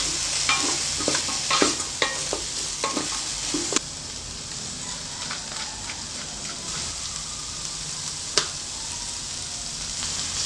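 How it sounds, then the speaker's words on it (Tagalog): Garlic and onion sautéing together in a pan for native chicken adobo, a continuous close sizzle with a few stirring scrapes near the start, no talk. "Igisahin lang natin saglit yung bawang tsaka sibuyas."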